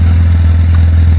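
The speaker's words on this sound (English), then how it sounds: "This thing's running. It's running fine now" Volvo 1800S engine running steadily at close range, a loud, even mechanical drone with a faint rhythmic clatter and no voices.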